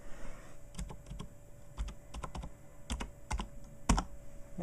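Keys clack on a desktop computer keyboard in short, irregular bursts, close and fairly quiet, with brief pauses between the groups of presses.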